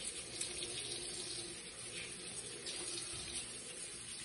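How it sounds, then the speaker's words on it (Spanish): A kitchen tap runs in a steady stream as vegetables are washed beneath it, a soft continuous hiss and splash at low level with no talking. "Vamos a lavarla bajo chorro de agua constante y vamos a utilizar un cepillo"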